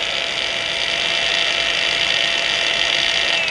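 A Xenon CDAG1845 cordless angle grinder runs freely at its lowest speed setting, around 3000 rpm, giving a steady, loud, close whine that holds an even pitch throughout with no talking.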